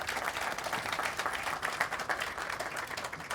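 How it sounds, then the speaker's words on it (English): At a groundbreaking ceremony for a jazz district development, a gathered crowd claps for city staff, a fairly quiet but continuous patter of applause lasting the whole stretch without talk. "Let us give you a round of applause and thank you for all that you have done over all these years."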